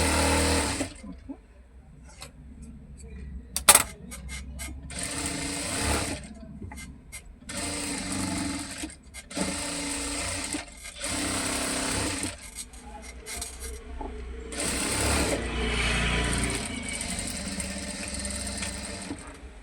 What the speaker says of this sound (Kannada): ಇವಾಗ ಫಸ್ಟ್ ಇದು ಸ್ಟಿಚ್ ಮಾಡಿಬಿಡೋಣ.